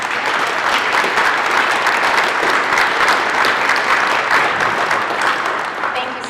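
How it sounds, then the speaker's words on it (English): Audience at a news conference with Iowa Lt. Governor Kim Reynolds for Million Women Mentors breaks into full, dense applause that holds steady and loud throughout, easing slightly at the end. "so we could give you a round of applause"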